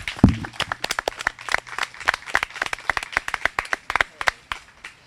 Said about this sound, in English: give yourselves a round of applause for the things that you've accomplished this week